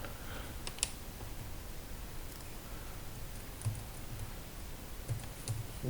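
Sharp, quiet clicks of a computer mouse come at irregular intervals over a faint steady background hiss, a few isolated taps spread across the stretch.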